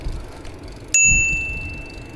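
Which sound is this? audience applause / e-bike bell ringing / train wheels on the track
e-bike bell ringing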